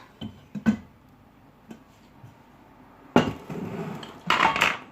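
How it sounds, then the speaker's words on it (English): A saucepan is lifted out and handled in a home kitchen while bolognese is being cooked, giving a few sharp metallic clanks and knocks, then a longer burst of scraping and rattling cookware close by, with no talking. "Right, I'm going to get another pan."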